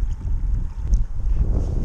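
Wind buffeting a microphone on a lake while fishing for prespawn bass from a boat, a steady low rumble and gusty roar close up with faint water noise, no talking.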